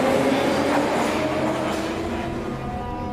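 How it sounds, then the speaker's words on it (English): A Moscow metro train rumbles steadily through a station, with low rolling noise and faint squealing tones that slowly fade. "Every 40 seconds, a train arrives or departs."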